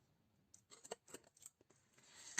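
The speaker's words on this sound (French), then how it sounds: "je coupe mes trucs autour" Scissors snipping around drying pastel artwork on paper, a quiet series of short irregular cuts and paper rustles, close up, ending in a louder crisp snip.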